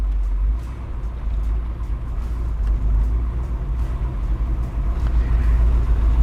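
A fuel-injected 1960 Corvette convertible engine idles steadily through Flowmaster exhaust, a deep continuous rumble that stays loud and even throughout with no voices over it.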